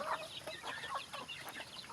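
Chickens cluck softly in the background, several short overlapping calls from a small flock amid quiet farmyard ambience.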